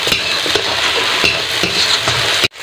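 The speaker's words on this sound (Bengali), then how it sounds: "দিয়ে ভালো করে মশলাটা কষে নেব।" Loud, close sizzling of spice masala being stir-fried in oil for a Kolkata-style prawn biryani, with a steady frying hiss and periodic scraping strokes of a spatula, ending abruptly.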